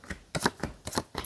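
Tarot cards shuffled by hand, quick papery riffles coming in three or four short close bursts with brief pauses between them.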